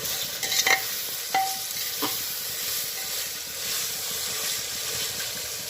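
Chopped tomatoes and green chilies sizzle steadily in a hot pan while a spoon stirs and scrapes, with a few sharp clinks early on and a continuous frying hiss throughout.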